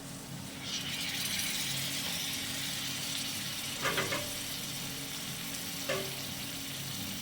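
Ground garam masala paste being stir-fried in a pan for a Bengali banana-flower and prawn dish, a steady soft sizzle with a couple of brief scraping clinks from the spatula.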